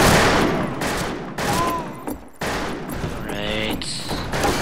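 Gunfire bursts in a multiplayer video game shooter, loud and repeated in clusters, with other game sounds and tones mixed in and a player's voice talking over them.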